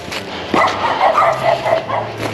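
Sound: dogs barking

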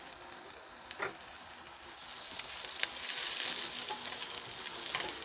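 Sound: chopped onion frying with ginger and garlic

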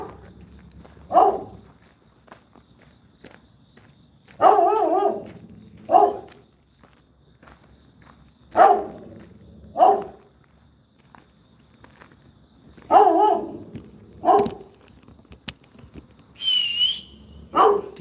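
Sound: dog barking, tied up in an abandoned building

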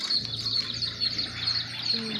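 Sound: birds chirping

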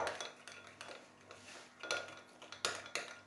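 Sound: mixing homemade mayonnaise while pouring oil into egg

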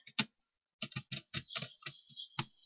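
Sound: laptop keyboard typing

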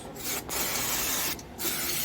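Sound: brake pad cleaning spray being sprayed on a Honda CBR125R

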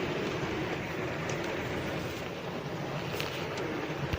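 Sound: heavy rain

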